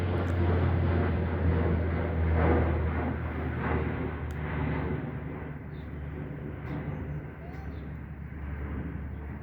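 A steady, loud roar of an airplane flying overhead during stormy weather in Calgary, Alberta, Canada, gradually fading as the aircraft moves away.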